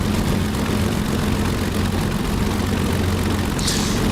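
A Messerschmitt Bf 109G-6 in a flight simulator gets a brief engine run-up to clean the plugs, a continuous low, rumbling roar at steady loudness with no voices over it.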